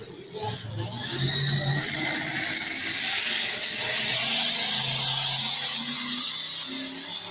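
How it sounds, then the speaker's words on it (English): A super modified two-wheel-drive pulling truck's engine revs at a truck and tractor pull in Nordheim, Texas, a loud, sustained mid-range roar that swells and holds from a moderate distance. "Here's some super modified two-wheel drive trucks."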